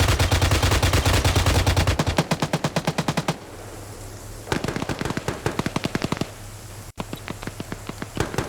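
Rapid automatic gunfire in a competitive shooter video game: long, dense bursts of shots at first, then shorter spaced volleys, loud and continuous with no talking.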